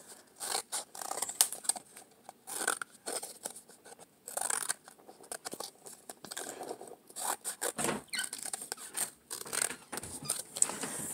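Scissors cutting pieces for a found-art sculpture made from recycled materials, with repeated crisp snips and rustling of material, close and fairly quiet, with no talking.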